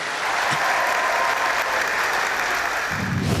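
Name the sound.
studio audience applause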